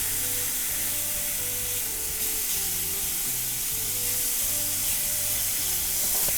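Pork sizzles steadily in an oiled frying pan, cooked for a ramen Jiro-style pasta: a dense, even crackle and hiss that holds at a constant level for the whole stretch, with no voices.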